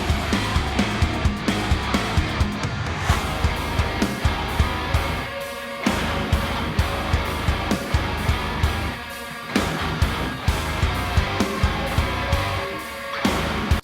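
Dark, heavily processed guitar, pitch-shifted through a Gojira plugin and soaked in reverb and delay, pulsing in a steady beat-driven mix with brief drops, loud and continuous with no voices.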